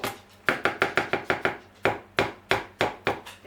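A whisk beats peanut butter banana muffin batter in a bowl, knocking out a quick, regular run of sharp, close taps that pauses briefly midway before resuming.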